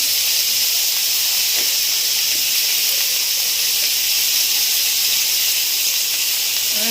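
Bottle gourd peels dropped into hot oil hiss and sizzle in a strong, even, continuous wash, close and loud, with faint scattered crackles and no speech.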